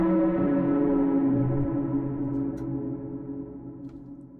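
A designed sound effect for animation, shaped with a compressor and Black Hole reverb: a dense, sustained tonal drone swells and lingers alone, slowly thinning and fading over several seconds.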